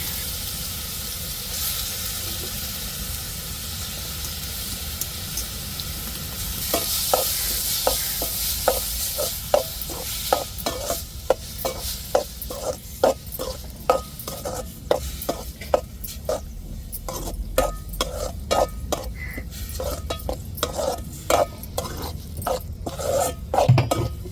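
Coarsely grated beetroot frying in ghee, stirred in a pan: a low sizzle that turns into quick, rhythmic scraping strokes of the spoon against the pan, repeated steadily and close, with no talk.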